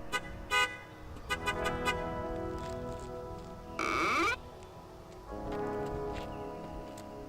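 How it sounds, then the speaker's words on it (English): An oncoming car horn sounds in one short, loud honk midway, set against a droning tonal background. "The only known thing that could wake them up is the honk of an oncoming car."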